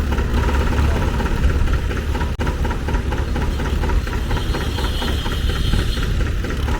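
An International V275 tractor engine runs steadily at a steam and country show, a loud continuous low throb with a faint rhythmic pulse throughout and no talk over it.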